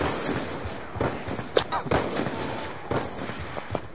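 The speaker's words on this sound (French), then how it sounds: "je tire" Rapid bursts of video-game gunfire crackle through an esports match, with sharp repeated shots and heavier booms under faint player chatter.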